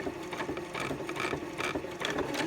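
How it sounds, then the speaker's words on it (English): A sewing machine stitches through fabric in a fast, even mechanical chatter, fairly quiet and running steadily with no talking. "I'm just gonna sew up to where they were, then I'm gonna backstitch."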